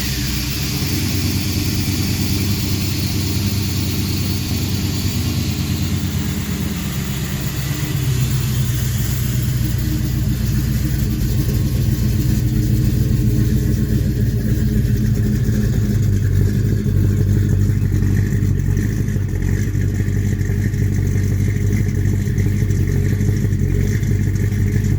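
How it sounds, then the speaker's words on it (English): A cold-soaked 406 cubic inch V8 in a C10 pickup, remote-started, runs at a steady, smooth warm-up idle without lope: a continuous low rumble with faint higher hiss, close by and unbroken. "Give you guys the sound. It's cold, so it's not going to be lopey."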